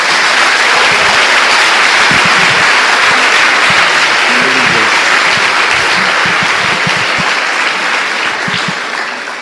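Sustained, dense applause from a church congregation at a worship service, loud and steady throughout, tapering slightly near the end.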